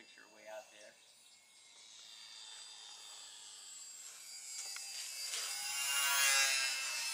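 Sport Cub RC model airplane with FPV in flight, its thin buzzing motor whine growing steadily louder as it approaches, after a few faint voices at the start.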